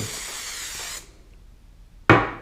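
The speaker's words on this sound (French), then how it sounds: "avec une colle en bombe, on va coller le support, le motif sur son support" A spray adhesive can hisses steadily for about a second while glue goes onto rigid cardboard, then goes quiet before a sharp, loud knock or clunk close by.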